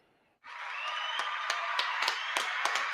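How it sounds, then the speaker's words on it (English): An audience claps for a new artist and songwriter, a sustained wash of applause that starts suddenly and continues steadily, with sharper individual claps standing out near the microphone. "Y'all clap your hands for Jester"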